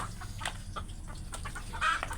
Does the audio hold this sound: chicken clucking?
yes